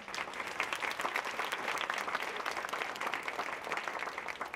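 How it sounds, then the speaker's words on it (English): An awards ceremony audience claps steadily, a dense, even patter of many hands held at a moderate level from start to finish, with no voices standing out. "please give a very warm round of applause for Mrs. Susan Wolf."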